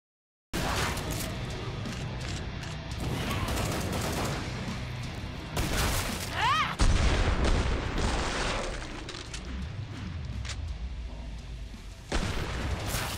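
Dense gunfire from shooting Zeds in Killing Floor 2, with steady rapid bursts and heavy booming shots running nearly continuously, loud and close, with no talk.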